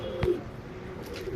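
A pet bird offered for sale, a single-tailed, long-bodied pigeon, gives a soft, low coo once, close by and alone against a steady background hum.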